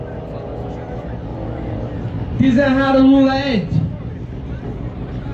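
A Chevrolet Corvette C6 with a 6.0 V8 idles with a low rumble, then revs up briefly in a rising and falling roar at a street race start, with people talking over it.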